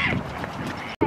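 Several ducks quack close by in a short burst, nasal calls overlapping one another, with a brief pause before one more call.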